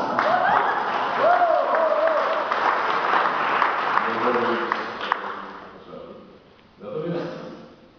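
Audience applause at a Polish award ceremony for the Sandomierz Crown, a steady crowd of clapping with voices and cheers mixed in, fading near the end before a brief renewed burst.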